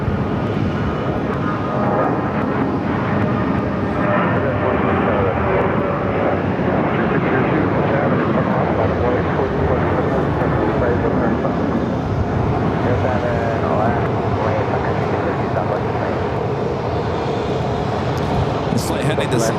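An American Airlines airliner departing Phoenix airport roars steadily and loudly, a broad continuous engine rumble with a voice talking over it throughout.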